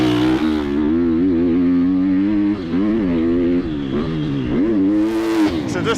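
A Triumph TF250-X motorcycle engine accelerates hard from close range, revving up and down with strong, loud, continuous engine tone while the bike is ridden and opened up.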